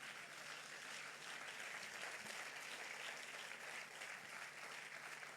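Church congregation applauding during a Sunday service, a steady wash of clapping from many hands that holds evenly throughout and sounds somewhat distant.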